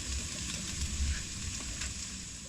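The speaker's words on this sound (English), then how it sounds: "I'm gonna cook a little bit of this minced garlic. Let it get good and brown." Minced garlic sizzles in butter on a flat-top Blackstone griddle, a steady close hiss with small crackles and occasional pops running through the whole stretch, with no voices.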